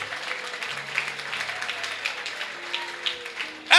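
Scattered applause from a church congregation runs beneath a mix of murmuring voices and background chatter, moderately loud and fairly steady, with a sharp noise burst at the very end.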